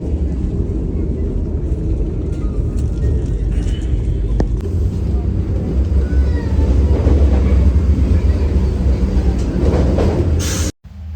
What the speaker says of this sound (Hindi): अरे अब तो हम गिरने आ गए थे, इतनी ट्रेन हिल रही थी।